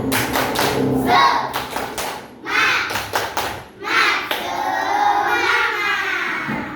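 Schoolchildren in a classroom performing a rhythmic clapping chant, sharp bursts of claps in patterned groups alternating with the children's chanted voices, close and lively.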